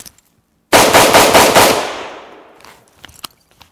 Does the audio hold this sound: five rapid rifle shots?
yes